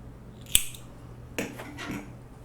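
Scissors snip through crochet yarn in one sharp close cut, followed by soft rustling of the yarn and handling.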